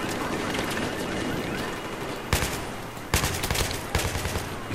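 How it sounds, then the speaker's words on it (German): Gunfire in Battlefield 3, a first-person military shooter: a wash of distant battlefield noise broken by several loud, sharp shot bursts in the second half. "die geben mir einfach so ganz schön harte Schüsse rein"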